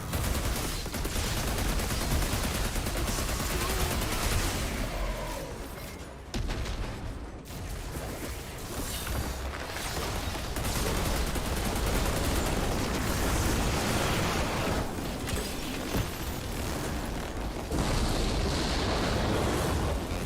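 Rocket salvo explosions and gunfire in the sci-fi shooter Outriders, a dense, continuous barrage of blasts and shots that stays loud for about twenty seconds, with a brief dip in the middle and no talking.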